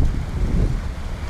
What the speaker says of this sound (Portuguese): E um vento, ó, olha como o mar tá alto.